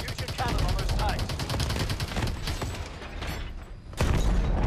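Heavy, continuous cannon and gunfire from an aircraft attacking tanks in the video game Call of Duty: Advanced Warfare, with rapid repeated blasts and booms at a steady loud level, a short lull, then another strong burst.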